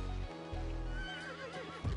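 Video-game horse in Albion Online neighing, a bright wavering whinny rising over steady low hoof clip-clop and a droning background, fairly close and alone without talk.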